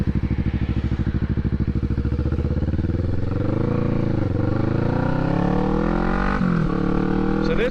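A motorcycle engine idles with a steady, fast throb, then revs and pulls away, its pitch rising and falling through gear changes. It sounds close and loud, with no talk over it.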